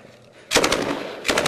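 Two short bursts of SAW machine gun fire from combat footage, each a rapid rattle of shots, loud and close, separated by a brief pause.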